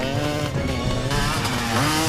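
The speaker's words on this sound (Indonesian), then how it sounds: "Andy berhasil kabur menggunakan motor yang terparkir di sana." A motorcycle engine revs and whines steadily during a getaway scene in a gangster film, loud and continuous with shifting pitch, mixed with a dense soundtrack.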